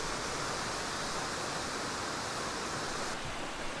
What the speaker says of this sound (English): you just can't get the sheer scale of this waterfall without personally coming here and visiting it